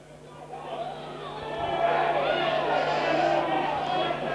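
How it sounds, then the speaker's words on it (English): A rugby league crowd at a 2003 Barrow versus Swinton match swells into a sustained disgruntled roar and murmur, building from moderate to loud over a few seconds, with a commentator speaking over it. "Crowd not too happy there"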